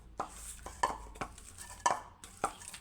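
Biscuit dough is mixed with ghee in a bowl: quiet, close clinks and scrapes of the mixing come in an uneven series of about five soft knocks.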